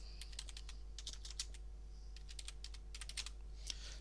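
Rapid clicks of typing on a computer keyboard, close and fairly quiet, in irregular bursts with short pauses over a steady low hum, and no talking.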